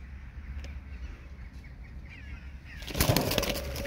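Malatya tumbler pigeons flap their wings in a sudden loud burst near the end, after a few seconds of quiet rustling and faint background hum.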